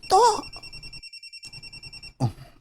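A telephone rings for an incoming call with a steady electronic ringtone of short repeated pulses. A voice speaks briefly at the start and again near the end.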